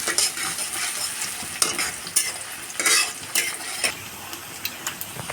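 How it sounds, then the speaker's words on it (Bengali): Chopped green chillies frying in a pan as they are stirred for masala chicken. Brisk, repeated spatula scrapes rise over a loud, constant sizzle, close by. "কাঁচামরিচ, হালকা নেড়ে চেড়ে ভেজে নেব আমরা"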